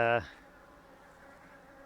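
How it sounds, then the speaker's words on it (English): Honey bees hum in a densely packed brood box of an opened beehive, giving a soft, steady drone after a brief louder buzz right at the start, with no talking. "looking at the brood box, completely full of bees"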